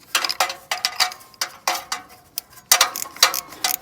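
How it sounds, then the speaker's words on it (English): A flex head gear wrench ratchets in quick bursts of crisp clicking while tightening a lower nut during a thermostat replacement on a 2004 Toyota RAV4, close and distinct with short pauses between strokes. "just an example of what I'm doing to tighten this lower nut. I've got this flex head gear wrench down here."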